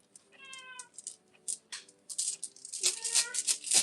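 A pet cat meows at a door indoors, a few clear, close meows followed by a burst of rattling and scratching noise, with no talk.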